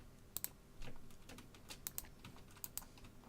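Keys on a computer keyboard are pressed in a quiet, irregular patter of clicks close to the microphone, a few sharper taps standing out, with no speech over them.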